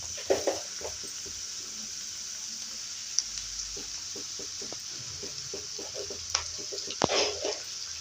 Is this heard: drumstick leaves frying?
yes